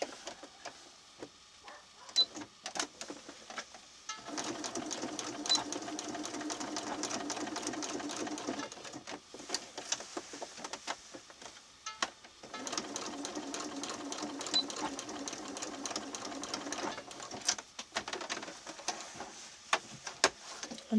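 Sewing machine stitching across folded fabric, humming in two steady runs of several seconds each, broken by short pauses with light clicks and fabric handling, moderately quiet and close.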